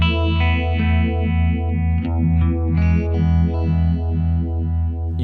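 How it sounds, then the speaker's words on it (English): Guitar runs through a Red Witch Moon Phaser pedal blending tremolo and phaser in sync, a sustained chord pulsing and sweeping in a steady throbbing rhythm, close and loud with no voices. "it's like having a tremolo and a phaser synced together."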